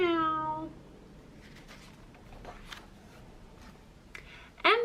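A voice gives one drawn-out, nasal meow in imitation of a cat while reading a children's picture book aloud. After that comes a quiet stretch with faint rustles, then a brief sharp vocal sound at the end.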